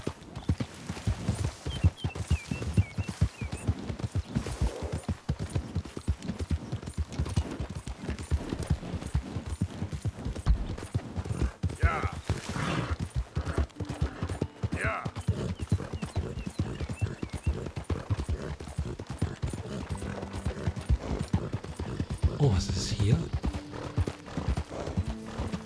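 Horse hooves clop rapidly and evenly at a gallop in Red Dead Redemption 2, loud and continuous, with a brief whinny and faint background game sounds.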